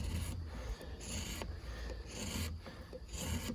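Single-pin marking gauge scribing a line across wood for a mortise on a porch build, a few quiet repeated rasping strokes, close and faint.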